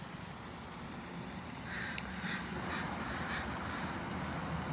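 A wild crow answers with a few rough caws at a distance over a steady outdoor background hum, the calls spaced out across several seconds.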